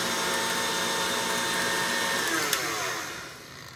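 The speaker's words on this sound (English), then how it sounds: "I'm just going to speed this up and give it a final nice whisk." An electric hand mixer whisks sponge cake batter for mini Victoria sponges, a steady loud motor whir that holds constant before slowing and fading near the end.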